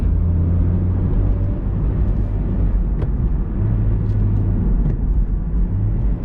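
A Honda CR-Z in sport mode accelerating hard from the driver's seat, with a loud, steady low engine drone and rumble that holds throughout, with no talk over it.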